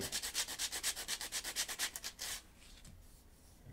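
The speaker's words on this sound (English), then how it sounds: "just as long as it's sanding it down" Rapid, rhythmic back-and-forth scratching of sandpaper on a wooden drawer, about a dozen quick strokes, then it stops and only faint handling noise remains.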